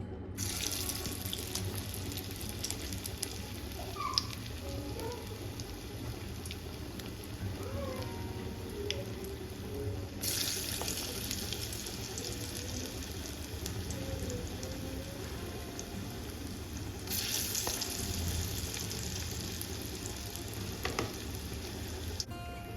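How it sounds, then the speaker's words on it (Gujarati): Manchurian balls fry in hot oil, a steady bubbling sizzle that runs the whole time, with a brief brighter hiss surging twice. "તો આ રીતે આપણે બોલ્સ બનાવી દઈશું અને ઓઇલમાં આપણે એને ફ્રાય કરીશું।"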